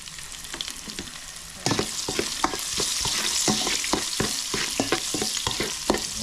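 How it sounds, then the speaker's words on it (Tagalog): Onions and garlic fry in a hot pan, a loud close sizzle that jumps up partway through as more goes in, with repeated sharp stirring clacks of a utensil against the pan. "Lagyan po natin yung sibuyas."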